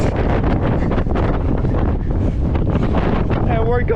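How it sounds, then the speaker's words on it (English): Strong wind gusts buffet the microphone while hikers descend a mountain trail, a loud, continuous roaring rush that fills the whole clip with steady turbulent noise. "We're on the way down, and it's just a little windy."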